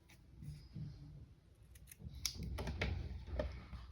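Scissors snip through yarn right after a knot is tied on a handmade amigurumi doll, giving a few quick, close, crisp cuts over quiet room noise.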